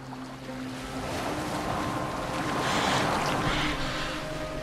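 A longship cuts across the water in Assassin's Creed Valhalla, with a steady wash of waves and wind rushing past and swelling slightly before easing, with no speech.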